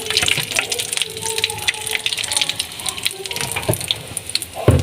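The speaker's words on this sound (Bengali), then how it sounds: "আমার বাকি যে তেলটা আছে এতে আমি আবার সরষার তেল দিয়ে দেবো" Mustard oil poured into a cooking pan for chicken kasha, a close gushing, gurgling pour with splashy texture and a few clinks, ending in a brief knock.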